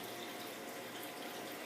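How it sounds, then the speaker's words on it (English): Tap water running steadily into a water filter container, a continuous faint rushing and splashing with no voices. "I fill this up with 3 gallons of tap water."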